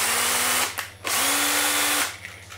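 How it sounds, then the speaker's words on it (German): A cordless drill taps threads into aluminium in two close bursts of whining motor, the second longer with a rising pitch, and then a third brief start just begins at the end. "Gewinde schneiden wir mit dem Akkuschrauber."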